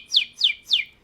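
A person imitates a bird tweeting with three quick, evenly spaced whistled chirps, each sliding downward in pitch, close to the microphone and clear against near silence.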